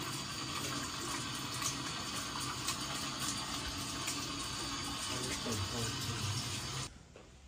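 Tap water runs steadily into a sink during washing up after a meal, a continuous close hiss and splash that stops abruptly near the end.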